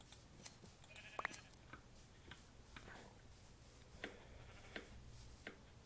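Sheep in the Minecraft game let out short, faint bleats. A few soft ticks and clicks are scattered through a low, quiet background.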